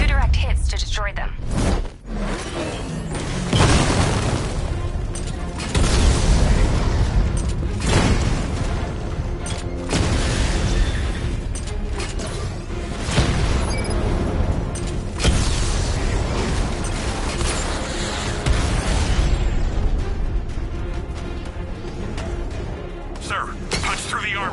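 Batmobile 60mm cannon firing on heavily armored tank units in Batman: Arkham Knight, with repeated heavy booms and crackling blasts amid constant mechanical rumble, while voices talk over the action.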